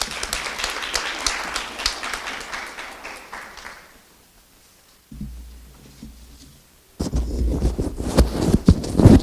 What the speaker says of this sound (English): let us give our keynote speaker, May Hazelton, a round of applause.